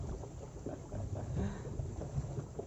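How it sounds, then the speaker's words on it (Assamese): A foot-pedalled boat moves across a lake in Nakachari Sukafa Park, Assam, making a low, continuous churning rumble of water with faint splashy textures throughout. "ভৰিৰে পকোৱা ব'ট আছে।"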